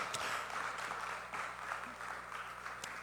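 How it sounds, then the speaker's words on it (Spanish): Applause from a church congregation during a sermon, a broad steady wash of many hands clapping at moderate distance that holds evenly from start to finish. "Denle un aplauso a esa palabra poderosa"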